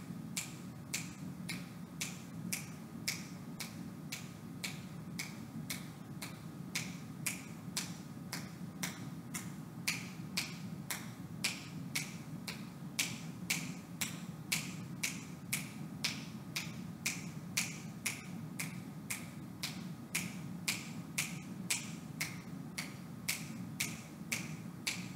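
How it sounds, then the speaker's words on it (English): Hands clap a steady quarter-note beat, sharp evenly spaced claps repeating at a regular tempo for a long stretch, close and alone without talk. "I'm gonna clap the quarter notes, but think jingle bells along the way."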